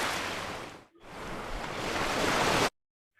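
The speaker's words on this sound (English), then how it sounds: "මේ ocean wave කියන sound එක මෙතන තියෙනවානේ" An ocean waves sound effect added to a school computer project plays as a steady broadband surf wash, briefly dipping once, then cutting off abruptly into silence.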